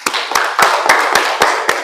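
Rhythmic hand clapping from a small classroom group, about seven sharp, evenly spaced claps in quick succession, loud and close.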